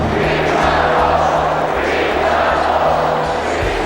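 A raucous Utah Jazz basketball crowd at the Delta Center during the NBA Finals, a loud steady roar of cheering that fills the whole stretch.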